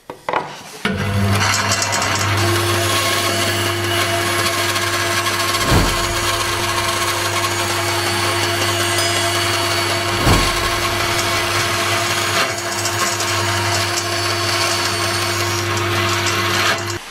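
A band saw cuts a wooden router template, its motor whining steadily over a gritty rasping of blade through wood that runs for most of the stretch with brief louder surges.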